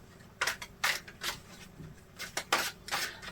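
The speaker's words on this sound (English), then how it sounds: "I need to shuffle my cards a little bit on that question." Quick bursts of papery riffling as tarot cards are shuffled, several short shuffles in a row, crisp and close, with brief pauses between them.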